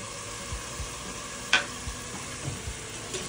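Crabs fry with spices in a pan for crab curry, giving a steady soft sizzle with light stirring taps and one brief louder scrape. No one speaks.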